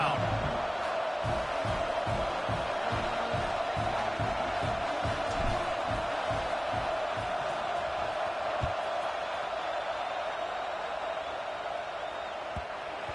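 A football stadium crowd at an SMU versus Penn State game after a touchdown, a broad, steady roar of many voices with scattered shouts, a commentator's voice running over it throughout.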